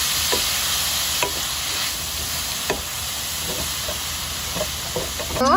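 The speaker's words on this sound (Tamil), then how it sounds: "மீடியம் சைஸ் ஆனியன் நல்லா டிரான்ஸ்பரண்ட்டாக ஆகிற வரைக்கும் நமக்கு வதக்கிக்கலாம்" Medium onions sauté in a pan for Chettinad chicken, a continuous close sizzle and hiss broken by occasional light scrapes of a spoon, with a brief squeak right at the end.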